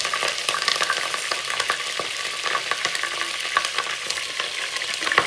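Goat meat frying in hot oil inside a pressure cooker, a steady close sizzle with crackling pops and the scrape of stirring, no voices.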